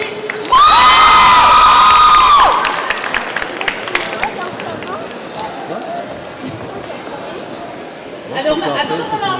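A cosplay contest audience erupts in a loud, shrill burst of cheering and applause that fades into scattered crowd noise before swelling again near the end.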